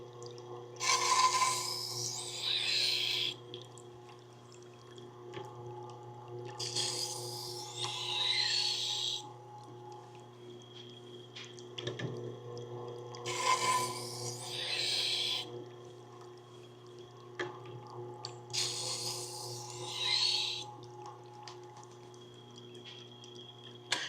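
Knife blade drawn repeatedly through a roller sharpener, making four rasping, high-pitched scraping passes spaced a few seconds apart over a steady low hum, close and moderately loud.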